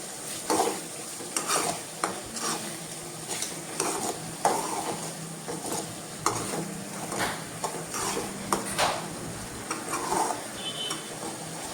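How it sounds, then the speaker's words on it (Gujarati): Spices stirred into tomatoes and onions in a pan for pav bhaji, giving soft repeated scraping and stirring strokes over a low steady sizzle, close and with no talk. "પછી આ બધા મસાલાને આપણે ટમેટા અને ડુંગળી સાથે મિક્સ કરી લેવાના."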